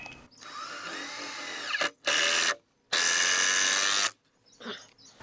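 Power drill driving screws into a wooden pallet raised bed, sounding as two loud, steady whirring bursts of about a second each, with softer mechanical handling noise before and after.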